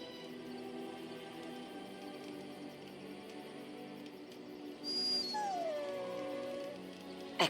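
A dog in the game Dragon Age Origins gives a drawn-out whimpering howl, its high whine rising and then sliding down, heard over a low, steady game ambience with no one speaking.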